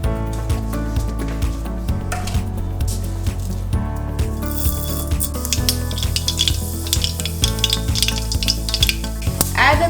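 Mustard seeds fry in hot oil left from frying fish, giving a loud, steady sizzle with faint popping throughout, heard alone without talk.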